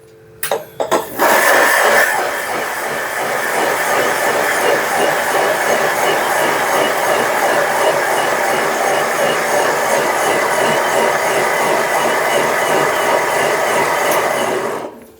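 A blender runs steadily on its coarse setting to dissolve sugar into mango pulp for aam ras, a loud, even whirring drone that starts after a brief clatter and holds for about thirteen seconds.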